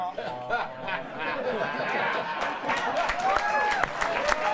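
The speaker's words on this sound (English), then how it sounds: "Mercy clapping!" Sparse, scattered applause from a studio audience on a late-night talk show, a few hands clapping with crowd murmur and chuckles beneath a voice talking over it.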